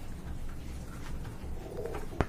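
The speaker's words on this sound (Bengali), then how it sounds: "এখানে দেখতে পাচ্ছেন ভাইয়া লফটের আরেক জোড়া কিউট কবুতর" Pigeons in a loft, soft low cooing repeated several times at close range, with a sharp brief knock near the end.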